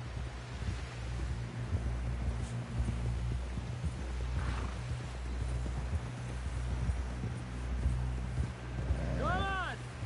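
Horse hooves clip-clopping at a steady gallop in Red Dead Redemption 2, with wind noise and a game character talking over the rhythmic, fairly close hoofbeats throughout.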